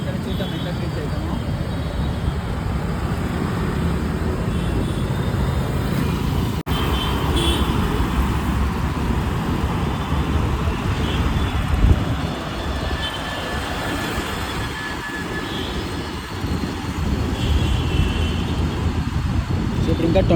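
Heavy city road traffic heard from an electric scooter crawling through congestion, a continuous broadband rumble of engines and passing vehicles at moderate level throughout, with a person talking over it.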